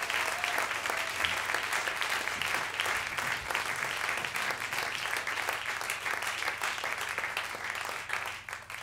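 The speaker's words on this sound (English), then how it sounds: "give a round of applause to all of these great musicians who perform tonight" Concert audience applauds the jazz musicians at Promontory, a thick, even wash of clapping holding steady for nearly nine seconds before easing slightly at the end.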